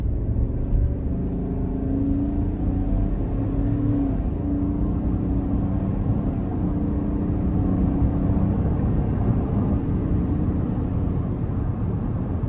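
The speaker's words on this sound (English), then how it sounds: "Let's go ahead and give it some throttle here." A 2024 Chevrolet Tahoe LS with the 5.3 V8 accelerates under moderate throttle, heard from inside the cabin as a steady, deep engine rumble that builds gradually with no talking.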